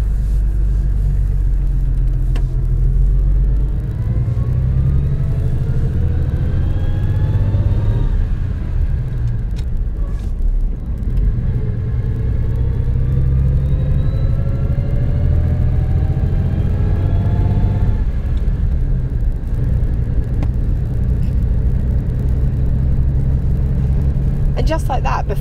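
A classic Austin 18 heard from inside the cabin while driving: a low, steady engine rumble and road hum runs throughout, with someone talking over it.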